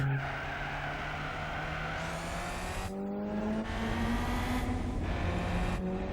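A car spins out in Gran Turismo 4, its tires skidding in a loud, sustained squeal over the steady engine drone. The squeal shifts and wavers as the car slides, continuous for several seconds with no talking.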